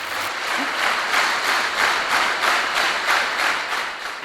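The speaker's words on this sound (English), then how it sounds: "Have a big claps." An audience at a success-principles business talk claps in a strongly pulsing, almost rhythmic way, each swell of hand claps rising and falling steadily for several seconds at a moderate, even level.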